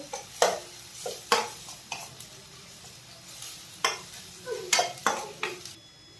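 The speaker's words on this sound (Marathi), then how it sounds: "थोडीशी हळद आपण यामध्ये घालत आहोत व मसाला छान परतून घ्यायचे आहे" Turmeric, red chili powder and garam masala fry with tomatoes in a pan, sizzling softly under repeated scraping stirs that come as distinct spoon-on-pan strokes spread over about six seconds.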